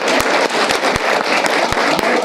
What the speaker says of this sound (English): She didn't get her round of applause.